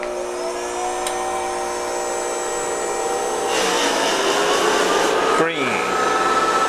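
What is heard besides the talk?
small polishing motor polishing platinum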